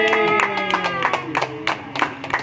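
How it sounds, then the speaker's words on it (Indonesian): Sharp hand claps come in quick succession from a small group, a brief round of applause during a manual screen-printing training session, with a sustained musical tone underneath. "Tepuk tangan."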